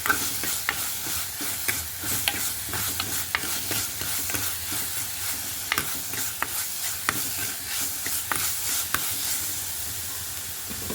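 Garlic, ginger, shallots and green chilies sizzle in a pan for rasam, a soft but steady frying hiss broken by frequent sharp spatula taps and stirring clicks, with no one speaking.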